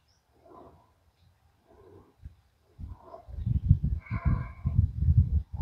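Goats in a pen bleat twice faintly at first, then a louder, closer bleating run follows over low rustling and movement.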